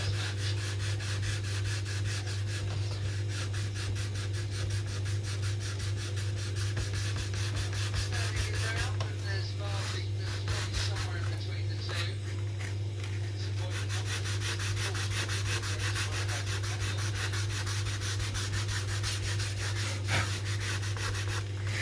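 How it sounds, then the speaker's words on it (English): Sandpaper on a guide worked steadily up and down, cutting a shallow trough into a wooden aircraft wing for fabric covering; continuous close rubbing and scratching over a constant low hum, with no talk. "we just basically sand up and down"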